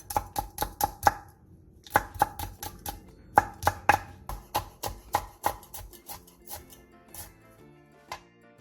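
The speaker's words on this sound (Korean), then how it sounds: "청양고추 2개와 청양홍고추 2개를 길게 십자 모양으로 칼집을 낸 뒤 쫑쫑 썰어주세요" A knife chops cheongyang green and red chili peppers on a cutting board in quick, close, crisp strokes, in bursts with brief pauses, then slows to a few scattered cuts.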